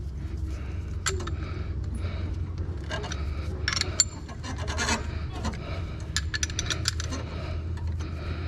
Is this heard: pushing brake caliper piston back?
yes